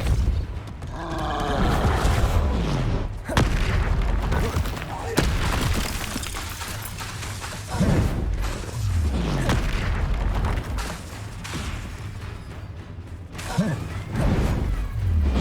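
Spell blasts and explosive booms crash through a troll battle in the video game Hogwarts Legacy, with repeated loud impacts, whooshes and rumbling hits sounding close and heavy throughout, mixed with shouted game voices.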